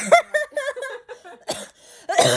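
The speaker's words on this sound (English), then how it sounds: "I'm coughing too for some reason." Several short, harsh coughs in quick bursts near the mic, with a breathy, laugh-like quality and a louder burst at the end.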